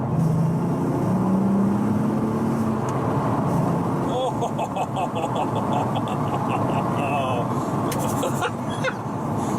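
Volkswagen Golf R32 Mk4 engine pulling through the gears, a steady loud drone with rising revs, interior road noise throughout and someone talking over it.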